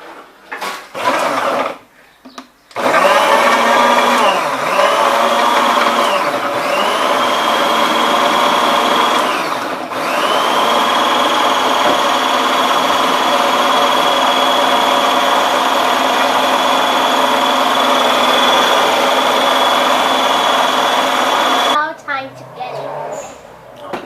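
A blender motor whirs loudly and steadily for about twenty seconds, blending Oreo cookies, its pitch dipping and rising a few times early on before it cuts off.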